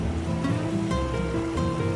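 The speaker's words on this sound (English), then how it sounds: "You'll fall asleep to the rhythm of the inexhaustible waves rolling onto the beach." Surf rolling onto a beach at Los Cabos in Baja California Sur, a steady, continuous wash of waves with a soft rushing roar and no voices.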